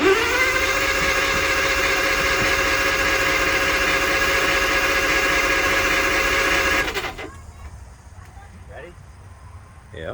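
Engine of a rare Allis Chalmers machine running steadily after the choke is pulled, a loud even drone for about seven seconds before it cuts out abruptly, leaving quiet background and faint voices.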